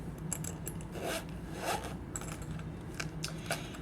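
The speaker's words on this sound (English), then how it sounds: "so you unzip it" Zipper on the side of a makeup palette case being pulled open in several short rasping strokes, close and soft, with small scrapes between them.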